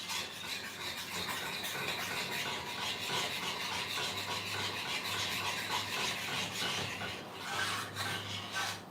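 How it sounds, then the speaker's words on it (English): Already-cooked taco filling stirred in a pan with a utensil, a continuous rasping scrape and rub that runs steadily for several seconds with no talking. "Just gonna give it a quick stir."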